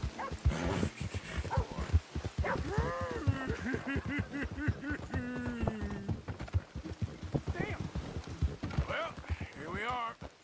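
A horse's hooves clip-clop in a fast, steady rhythm while riding in Red Dead Redemption, continuing throughout as someone talks over the hoofbeats.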